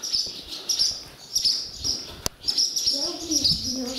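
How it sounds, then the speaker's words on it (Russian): Swallows flitting inside a grain warehouse give repeated quick, high chirps and twitters in bursts, fairly close, with a faint voice murmuring in the background. "Вот тут у нас ласточки. Вот они. Ух, стремительные какие."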